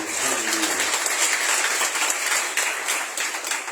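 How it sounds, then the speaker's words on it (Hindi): A church congregation claps for the Lord during a sermon, a lively, fairly loud burst of many hands with audible individual claps, following a brief trailing voice at the start. "क्यों ना प्रभु के लिए ताली बजाइए।"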